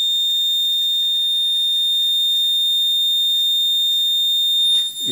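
A vintage burglar window alarm sounds a steady, high-pitched electronic tone that drones continuously and loudly, unchanging, before a brief rustle near the end.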